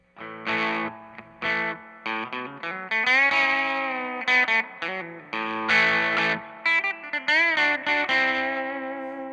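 Gibson SG Special electric guitar on its bridge pickup with distortion, playing choppy classic rock riffs and sustained chords, loud and close with short breaks between phrases, no voices.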